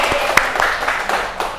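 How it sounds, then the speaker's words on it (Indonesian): A small school class claps briefly for fellow students, a few scattered, uneven claps close by in a classroom, lasting just over a second. "Oke, tepuk tangan untuk kalian semua."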